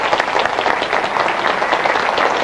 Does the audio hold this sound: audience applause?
yes